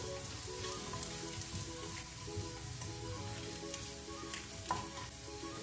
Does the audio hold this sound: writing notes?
no